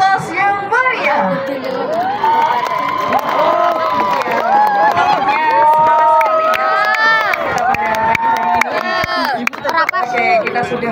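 A large outdoor crowd cheers and whoops continuously for a marching band's display at a National Santri Day ceremony, excited shouts and children's voices rising and falling close by throughout.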